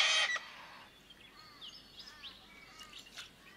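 Silvereyes (Zosterops) chirp on Kangaroo Island during a morning bath, with one loud burst of calls up close at the start and then a scatter of faint, thin twittering notes farther off in a quiet setting.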